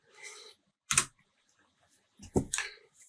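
Computer keyboard keys are pressed in a few separate clicks, a short cluster near the start and another burst later, close and fairly quiet with silence between.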